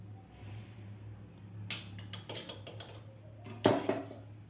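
A spoon scraping and clinking against a metal strainer while pushing watermelon juice through into a bowl below, a few sharp close metallic bursts over a quiet low hum.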